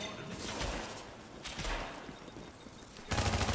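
Video game gunfire in The Division as a player shoots wooden dolls, a dense run of rapid automatic shots in bursts, growing louder and heavier toward the end.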